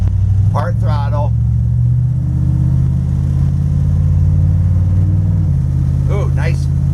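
A Dodge 440 V8 car engine pulling at part throttle with a steady loud low drone and a slight rise in pitch, under brief bursts of someone talking.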